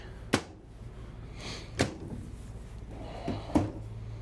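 Three sharp wooden knocks spaced about a second and a half apart, a drawer in a 2024 Newmar Ventana 4369 motorhome being slid open and shut, in a quiet room.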